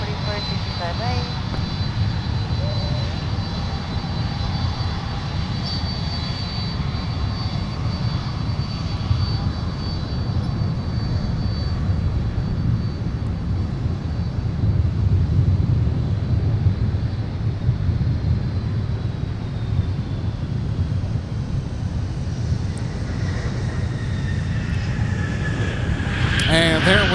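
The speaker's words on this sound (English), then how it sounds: "FedEx 798 has officially arrived from Memphis with the 767." A FedEx Boeing 767 arriving from Memphis at Minneapolis–St. Paul airport sends out a sustained jet engine roar at moderate distance, with some wind buffeting on the microphone.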